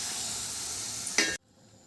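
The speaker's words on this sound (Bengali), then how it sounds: "দিয়ে সবগুলো একসাথে ভালোভাবে মিশিয়ে নাড়াচাড়া করে নিচ্ছি" Potatoes and pointed gourd frying in a pan with moong dal, giving a steady close sizzle and hiss as they are stirred, with a brief louder scrape before the sound cuts off abruptly.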